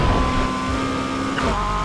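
Volkswagen Golf GTI engine in Need for Speed Heat, a steady droning hum holding a constant pitch, then dropping sharply near the end as if shifting or lifting off, with no talk over it.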